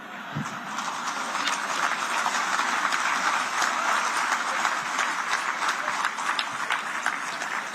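A crowd applauds continuously and fairly loudly, steady clapping holding for several seconds without voices.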